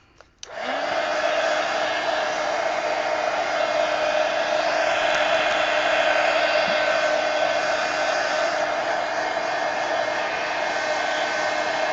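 A hair dryer switches on with a short stutter and then blows a loud, steady whoosh with a constant whine while drying art journal pages, close and unbroken for the rest of the clip.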